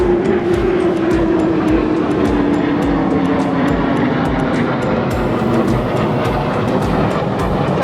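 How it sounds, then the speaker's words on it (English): Jet aircraft noise over a beach in the Florida panhandle near Pensacola, a loud, steady roar with a slowly falling tone as the planes pass, with no voices. "You do get to see a lot of fighter pilots flying by here because the Air Force Base is in Pensacola"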